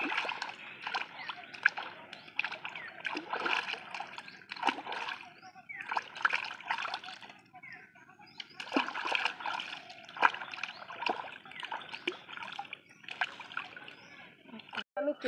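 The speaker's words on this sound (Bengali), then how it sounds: "এবার মাছগুলোকে ধুয়ে নেব।" Cut pieces of pond fish, head split in two, are washed by hand in a bowl of water: repeated splashes and sloshes in irregular bursts, close and moderately loud.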